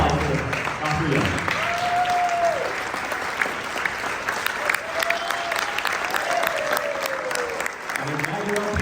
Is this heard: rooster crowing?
no